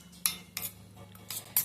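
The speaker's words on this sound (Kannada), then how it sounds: "ಸ್ವಲ್ಪ ಪೆಪ್ಪರ್ ಪೌಡರ್ನ ಹಾಕಿ ಚೆನ್ನಾಗಿ ಮಿಕ್ಸ್ ಮಾಡ್ತಾ ಇದ್ದೀನಿ" A spoon mixing chili, garam masala, cumin and pepper powders into paneer Hyderabadi gravy, producing several quick metallic clinks and scrapes against the bowl over a faint low hum, close and without speech.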